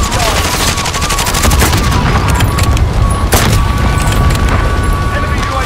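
Loud, continuous gunfire in the video game Warzone: automatic bursts and booming shots pile into a dense barrage, with voices heard in the mix.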